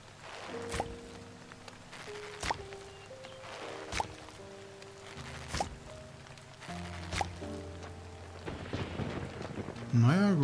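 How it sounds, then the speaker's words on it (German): Rain falls in the video game Fae Farm as a steady soft hiss beneath a calm melodic game soundtrack with occasional sharp ticks, and a voice briefly comes in at the very end. "hier, es regnet"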